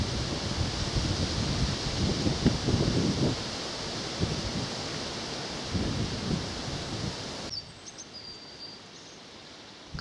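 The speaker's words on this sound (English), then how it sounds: "as the wind picks up" Wind gusts across open wheat country on a countryside walk, buffeting the microphone in rough, loud surges that rise and fall, then suddenly drop away to a quieter background.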